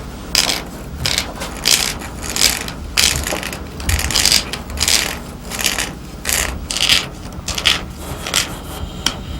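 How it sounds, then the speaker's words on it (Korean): A knife is turned inside a water-soaked bamboo tube to scrape out the inner flesh for traditional bow making, producing repeated rhythmic rasping, scraping strokes, close and steady, with no talking. "상사칼을 대나무 속에 집어넣어 돌려가며 속살을 전부 파낸다"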